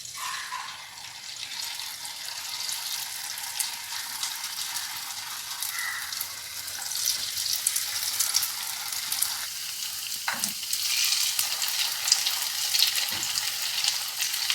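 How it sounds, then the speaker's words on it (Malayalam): Banana fritters dipped in maida batter frying in a wide pan of hot oil, a steady broad sizzle and crackle running throughout, fairly close and continuous with no talking. "നമ്മുടെ എണ്ണ ഇവിടെ നന്നായിട്ട് ചൂടായിട്ടുണ്ട്. നമുക്ക് മൈദയ്ക്കകത്ത് മുക്കിയിട്ട് ചുട്ടെടുക്കാം."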